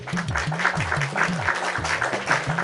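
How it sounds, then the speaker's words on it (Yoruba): Audience clapping at a Yoruba children's game show, a steady patter of many hands close by, with a voice speaking over it throughout. "Mo fún ẹ pàtẹ́wọ́ fún wọn."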